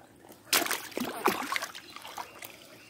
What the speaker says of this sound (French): Je la remets vite à l'eau.